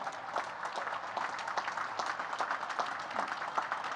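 Naval Academy midshipmen at a commencement ceremony applaud their families, a dense, steady patter of many hands clapping at a distance throughout.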